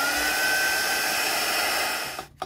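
Hair dryer blowing on a watercolour painting, a steady loud close whoosh with a high whine that runs for about two seconds, then cuts off into a few faint clicks.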